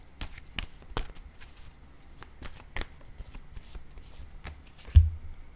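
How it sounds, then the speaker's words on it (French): Tarot cards being shuffled, handled and laid down on a surface during a reading, soft repeated slapping and flicking sounds, close and quiet, ending with a firmer tap. "je vais déposer une carte ici"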